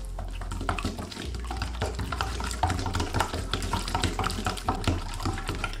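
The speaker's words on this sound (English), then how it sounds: "Now mix this really well." Chicken shawarma marinade of spices, salt and oil being mixed by hand, a continuous wet squelching and stirring sound, close and steady throughout with no talking.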